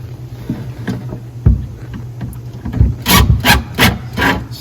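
Nickel pan head screws being driven into wood for a blanket chest, a few short grinding and rasping bursts close up, growing denser near the end.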